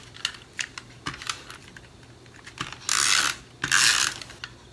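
An adhesive tape runner rolls onto card, giving clicky ratcheting ticks, then two longer bursts of rasping, whirring tape dispensing, close and moderately loud.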